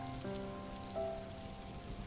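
Steady rain falls during a storm in a Bengali cartoon, a constant soft patter of drops with faint tonal sounds drifting above it and no voices.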